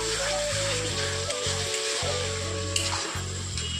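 Meat frying with chili powder in a pan: a steady, moderately loud sizzle and crackle running throughout, alone with no talking.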